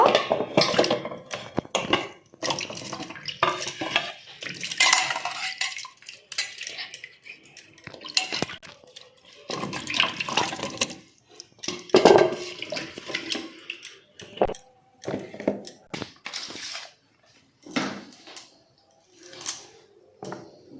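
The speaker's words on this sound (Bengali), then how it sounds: "সবকটা গাজরই এখানে ছাড়িয়ে পরিষ্কার করে নিয়েছি এবারে জলের ভিতরে দিয়ে দেব" Peeled carrots being washed in a bowl of water in a home kitchen: splashing and sloshing with clinks and knocks against the vessel, close and moderately loud in irregular bursts over about twenty seconds.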